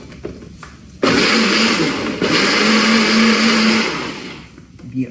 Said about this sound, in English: Let me finish blending the veggies so we can add that to our soup.